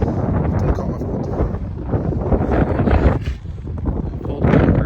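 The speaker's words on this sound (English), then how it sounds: "It's bloody cold. Very windy." Steady cold wind rumbles and buffets the microphone outdoors during home sewer repair work, a continuous low roar with gusts swelling near the end.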